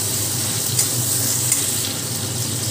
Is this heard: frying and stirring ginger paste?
yes